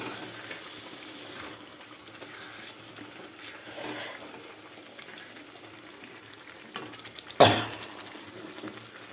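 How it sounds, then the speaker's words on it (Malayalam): Bitter gourd theeyal curry simmers with tamarind water, giving a faint, steady bubbling hiss that runs throughout, broken once near the end by a brief sharp clatter. "പുളിവെള്ളം ചേർത്ത് നന്നായിട്ടൊന്ന് തിളച്ച് കുറുകി വന്നോട്ടെ"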